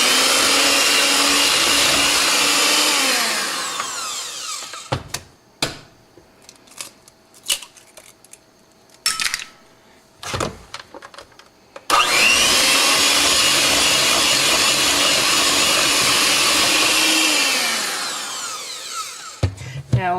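An electric mixer beats eggs into butter for blueberry muffins, a loud whirring motor that runs, stops for a stretch of knocks and clatter, then starts up again and winds down near the end.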